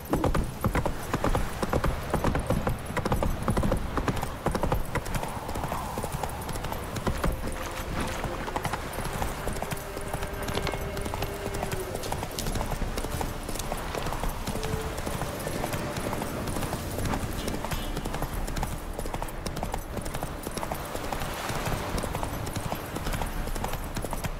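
Horse hooves in The Witcher 3 video game clop steadily and continuously at a gallop, with occasional snorts and whinnies and brief spoken lines over the hoofbeats.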